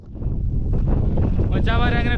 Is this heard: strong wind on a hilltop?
yes